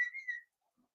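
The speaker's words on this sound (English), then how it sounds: "So can you stop the whistling?" A brief, faint whistle of a few wavering tones, stopping after under half a second and followed by near silence.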